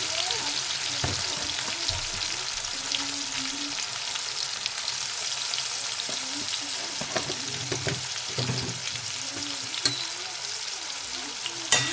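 Chopped tomatoes fry and sizzle in a pan with dried red chilli and a pinch of salt for mulo shaker chorchori, with a steady crackle and occasional scraping stirs, no voices.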